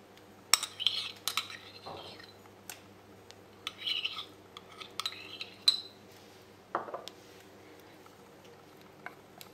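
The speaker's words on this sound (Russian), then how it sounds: "И все перемешиваем." Chocolate glaze being stirred after soaked gelatin is added, a utensil clinking and scraping against the bowl in scattered, irregular taps and short scrapes, close and fairly quiet with pauses between.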